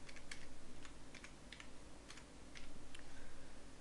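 Quiet, irregular clicks of typing on a computer keyboard, a few keystrokes in small bursts over faint room hiss, with no talking.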